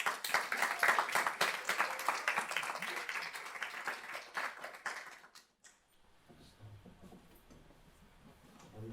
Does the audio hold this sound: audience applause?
yes